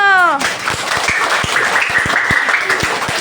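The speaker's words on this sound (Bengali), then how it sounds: "হাততালি ওর জন্য।" Applause and scattered clapping from a classroom audience of students after a child's recitation of a Nazrul Islam hamd, a bright burst of hand claps that follows a brief spoken word and continues steadily throughout.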